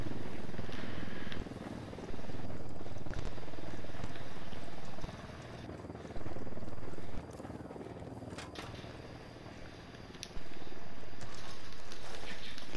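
A helicopter circling somewhere in Ghost Recon Wildlands, heard as a steady, dense rotor rumble under other game noise, with the overall level stepping up and down several times.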